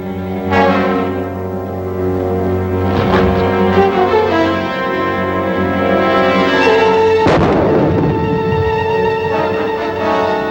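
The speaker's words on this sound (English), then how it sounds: "Give me a hand grenade." A hand grenade blast in a 1952 Republic film serial comes across as loud, booming explosions within a continuous roar of dramatic orchestral score. Heavy hits land near the start, around three seconds and at about seven seconds.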